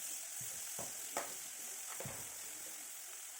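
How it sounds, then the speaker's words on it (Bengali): Small fish heads fry in a pan with a faint, steady hiss. A few soft scraping stirs break through now and then. "আর মাথাগুলো আমি যেগুলো রেখেছি সেই মাথাগুলোও আমি সেম ওইভাবে ভেজে নিব"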